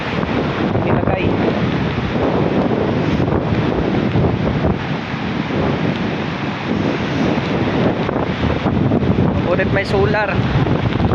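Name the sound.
strong wind and rain by the sea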